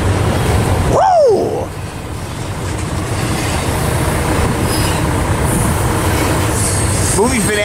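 An eastbound double-stack freight train passes close by in Barstow, California, with a loud steady rumble of wheels on rail, a sharp sliding wheel squeal early on, a brief whoop, and later another fainter squeal.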